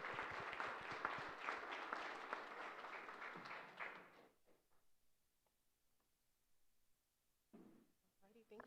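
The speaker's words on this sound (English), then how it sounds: "Round of applause for Clethia." Symposium audience applauding a speaker, a dense burst of clapping over the first four seconds that fades out, followed by quiet and then a brief voice near the end.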